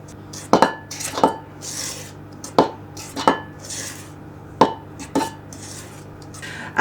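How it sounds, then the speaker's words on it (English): A big metal spoon knocks and scrapes against a mixing bowl while folding flour into runny sticky toffee pudding cake batter, with about eight sharp clinks spaced irregularly over quiet background. "And now with a big metal spoon, I'm just going to fold the flour"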